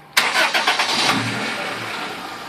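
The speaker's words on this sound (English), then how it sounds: "So if you could start the car, please." A car engine cranks briefly with a few quick rhythmic churns, then catches and settles into a steady idle, close and fairly loud, during ignition waveform testing.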